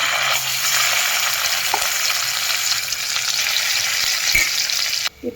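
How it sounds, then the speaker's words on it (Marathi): Spiced masala frying steadily in hot oil for a rustic village-style chicken curry, a dense continuous sizzle close by with a couple of faint knocks near the end, no voices. "इथं आपलं तेल गरम झालेलं आहे तर आपण हे मसाला घालून घेऊया याच्यामध्ये"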